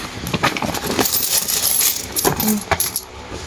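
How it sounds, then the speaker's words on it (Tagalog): Coins drop and clink in bursts of bright metallic jingling, close and fairly loud, with irregular clusters of jangling and brief pauses between them, and no talking. "Puro barya, ang dami."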